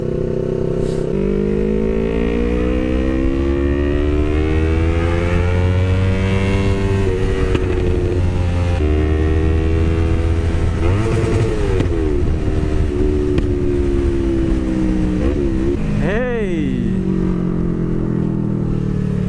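A motorcycle engine drones close by while riding, its pitch climbing and dropping as the rider accelerates and eases off, with a sharp rev near the end and no talking.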